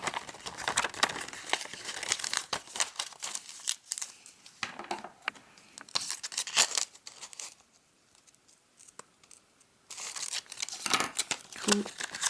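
Paper folded into an origami bull is opened up, crinkling and rustling up close in irregular bursts with a quieter pause in the middle.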